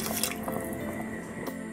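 Wine is poured into a pot of rabbit and white bean stew over raised heat, giving a close, steady splashing stream with dripping and sizzling underneath, and no one speaking.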